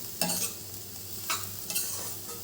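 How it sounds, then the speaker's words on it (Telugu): A spoon scrapes and stirs a Rayalaseema-style carrot fry mixed with spice powder in a pan, with a few short scraping strokes over a light sizzle and no voices. "ఇలా పొడి వేసిన తర్వాత మంచిగా మిక్స్ చేసుకుందాం"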